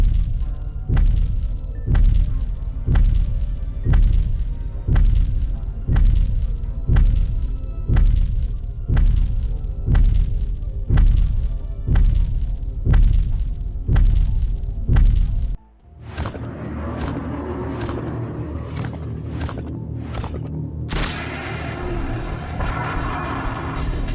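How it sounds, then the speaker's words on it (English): Huge booming footsteps approach in a Roblox horror game, a slow, steady run of deep, heavy thuds. They stop abruptly and give way to a rumbling, noisy wash of sound. "The booming footsteps that sound really large approaching him."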